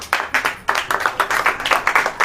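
A small congregation claps during a Hindi sermon, a quick run of about a dozen sharp, rhythmic hand claps close by, clear and without talk.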